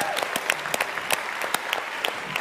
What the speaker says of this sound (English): Please, round of applause for Nate's team.